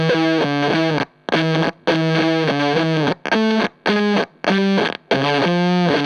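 An electric guitar through a ZVEX Fuzz Factory pedal plays a series of buzzing, saturated notes, with brief silent gaps between the phrases.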